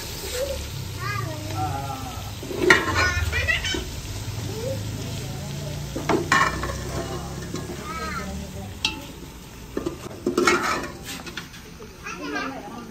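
Chicken frying and being stirred in browned onion, tomato and masala in a village kitchen, with a steady sizzle and scraping stirs throughout, while children's voices and chatter sound in the background.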